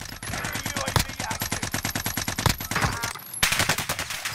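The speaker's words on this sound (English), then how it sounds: "I'm getting shot at." Rapid automatic gunfire rattles close and loud in a first-person shooter game, a fast, steady run of sharp shots with a brief pause before the burst resumes, and a voice faintly underneath.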